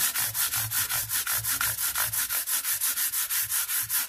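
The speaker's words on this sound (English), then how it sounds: "This also sands the fretboard." A fret leveling tool rubs back and forth along guitar frets and fretboard in a steady, fast rhythm of regular scraping strokes, close and even, with no talking.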